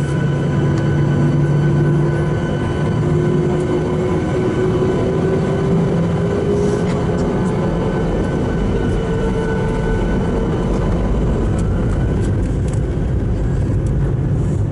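A passenger airplane takes off from a runway in Holland, heard from inside the cabin as a loud, steady engine roar with rising whining tones over a broad rumble, going on throughout with no talk.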